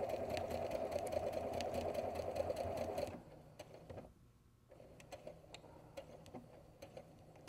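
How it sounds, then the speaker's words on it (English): A domestic sewing machine runs steadily while stitching a faux appliqué, then stops abruptly, leaving a quiet room with faint clicks and handling noises. "Okay, and I let it backstitch a few stitches there."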